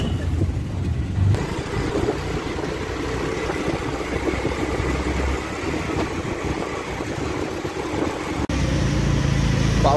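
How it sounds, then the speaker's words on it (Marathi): An auto rickshaw rides through Bandra traffic under overcast, rainy weather, its engine droning steadily and close with continuous road rumble and surrounding traffic noise. "निघालो आम्ही आता रिक्षाने बँड्रा फोर्टला जायला।"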